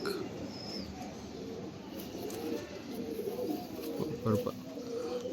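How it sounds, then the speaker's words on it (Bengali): Low, murmuring pigeon coos roll on continuously at close range against a steady background hum. "এবার কবুতরটির লেজ দেখুন"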